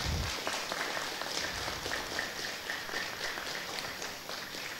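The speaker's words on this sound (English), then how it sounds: "Let's give a round of applause to these students." An audience at a school promotion ceremony claps steadily throughout, heard faintly from a distance in a hall.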